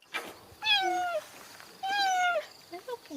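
A cheetah gives two drawn-out, cat-like meowing calls, close and clear, followed by a few shorter chirps.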